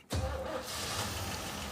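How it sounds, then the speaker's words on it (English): A Jeep Wagoneer engine catching and firing up immediately, a sudden start settling into a steady, fairly loud idle rumble. "He started the engine. It fired up immediately."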